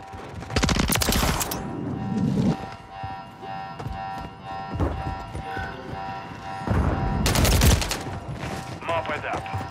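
Bursts of automatic gunfire in Call of Duty: Modern Warfare III War mode, loud rattling volleys near the start and again late, with scattered shots and battle noise between.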